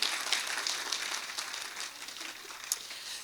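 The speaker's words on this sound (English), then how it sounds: "Give yourself a hand of applause" A room full of women at a Khalsa Credit Union International Women's Day celebration applauds in a soft, steady patter of many hands that tapers gradually, with a few sharper claps standing out.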